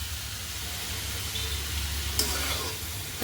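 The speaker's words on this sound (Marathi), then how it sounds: "तर हे मिक्स करून घेऊ" A spoon stirs an onion mixture in a pan for banana flower bhaji, a steady low sizzle running throughout with a soft scrape near the end, close and moderately quiet.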